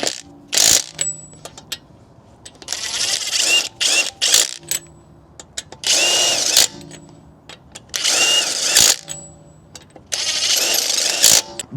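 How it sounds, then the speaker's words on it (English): A power tool torquing down wheel stud nuts on a BMW 440i after a lug-bolt-to-stud conversion, heard as loud, close bursts of rattling impact hammering, about six runs of one to two seconds separated by short pauses. "Let's go ahead and torque these things down"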